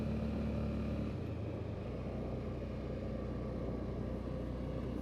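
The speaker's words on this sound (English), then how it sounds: "Now it shifted down again. You can hear it constantly going back and forth." A Honda Foreman 500 ATV idles and its automatic transmission shifts down, the steady engine hum dropping pitch audibly in the first two seconds, then settling into an even, close drone.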